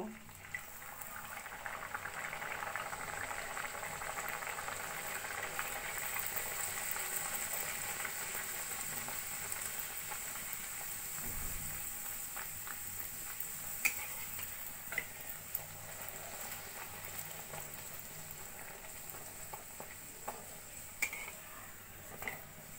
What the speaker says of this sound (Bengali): একইভাবে আর একটা কচুরিও আমি ভেজে নেব।